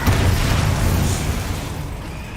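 A Bombarda spell blast in Hogwarts Legacy, heard as one loud, booming explosion that hits at once, then rumbles and slowly fades away.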